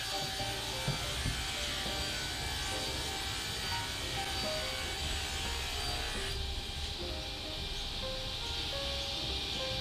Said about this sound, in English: And the pliers with my sliding table saw. Great machine. And ripping it to width.